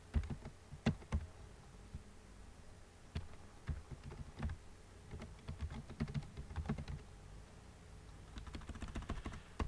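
Typing a username and password on a computer keyboard: close, uneven keystrokes with irregular pauses throughout, soft clicks and taps over a faint low background rumble.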